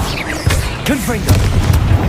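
A Confringo blasting spell explodes in the Hogwarts Legacy video game, a short, punchy boom and crackle close by, mixed with other spell effects and a voice shouting incantations.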